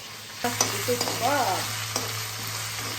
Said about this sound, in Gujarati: હવે એમાં નાખી દઈશું લસણ આદુની પેસ્ટ